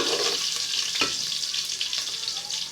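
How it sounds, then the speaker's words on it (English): Onions fry in a pan for a yam and beans porridge, a steady bright sizzle with light stirring and one soft knock near the start, moderately close and uninterrupted by voices. "To fry our onions for 2 minutes"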